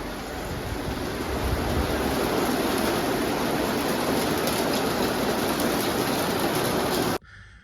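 Heavy rain in Ibiza pours down as a dense, continuous hiss and patter, loud and unbroken for about seven seconds before cutting off abruptly.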